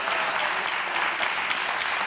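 Studio audience applause on a talk show honoring the founders of a lipstick brand, a steady dense wash of many hands clapping, fairly loud and continuous with no pauses.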